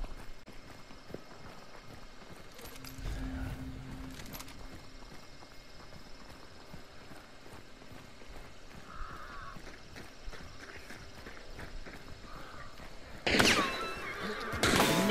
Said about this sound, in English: I just heard the horse.